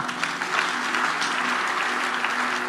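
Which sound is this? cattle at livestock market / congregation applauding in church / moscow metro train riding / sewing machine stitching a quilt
congregation applauding in church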